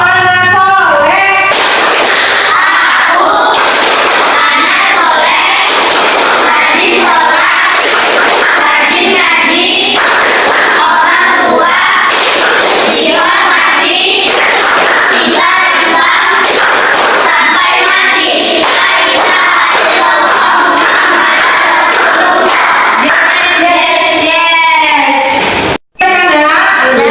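Children in a classroom perform a rhythmic clapping chant together, voices and hand claps blending into a loud, steady patterned beat that runs for nearly half a minute before cutting off abruptly.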